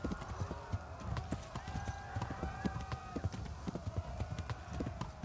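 Horse hooves clip-clop in a steady, even rhythm in Kingdom Come: Deliverance, fairly close, with game music and ambience underneath and a short neigh-like tone.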